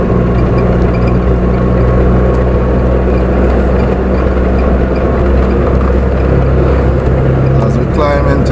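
A car climbing a hill in third gear, its engine a steady loud low drone that holds constant throughout, heard from inside the cabin.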